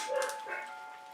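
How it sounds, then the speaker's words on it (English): Dogs being walked outside give a couple of quick, faint yips and barks at a distance, heard briefly against a quiet background. "evidently someone's walking their dogs."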